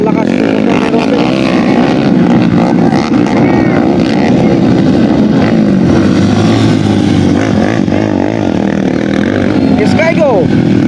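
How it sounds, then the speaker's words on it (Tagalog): Local underbone motorcycles race around a motocross track in San Jose City, Nueva Ecija, their engines buzzing and revving continuously and loudly, mixed with a crowd and announcer-style talk throughout. "malakas yung motor ng Robin"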